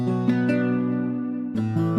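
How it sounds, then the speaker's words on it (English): A picked guitar arpeggio made with the Ample Guitar Lite and Nexus software instruments for a drill melody loop, with sustained ringing notes that overlap in an even pattern, fairly loud and close with no voices. "this guitar arpeggio I played in"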